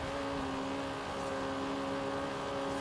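A small Fiat Abarth tuned for handling drones steadily in Forza Horizon 3, a constant moderately loud engine hum at an even pitch with no one talking.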